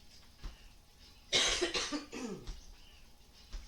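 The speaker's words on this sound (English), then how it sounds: "Still battling this cough of some sort." A short burst of several harsh coughs, close and fairly loud against a quiet room, followed by a softer throaty rasp.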